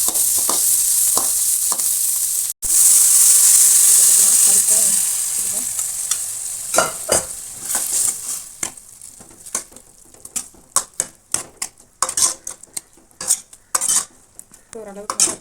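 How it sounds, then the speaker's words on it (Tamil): Sliced onions hit hot oil in a pan for a Tamil moong dal kootu and sizzle loudly, then the hiss fades as a spoon scrapes and stirs in quick, irregular clinks. "வெங்காயம் போட்டுக்கோங்க. கைஸ் நல்லா வணக்கி விடுங்க."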